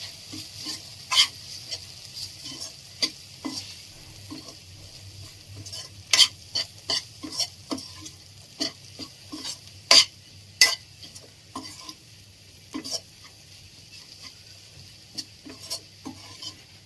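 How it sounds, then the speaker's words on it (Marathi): Spices including turmeric and chilli powder being stirred into sizzling oil in a pan while cooking a cashew paneer green peas masala, a spoon scraping and clinking in irregular strokes over a steady low sizzle, no talking. "आता आपल्याला सगळं हे एकजीव करून घ्यायचं आहे."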